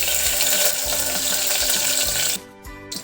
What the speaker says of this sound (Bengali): তেলটা ভালো করে গরম হয়ে গেছে, এবার দিচ্ছি লবঙ্গ, এই যে দারচিনি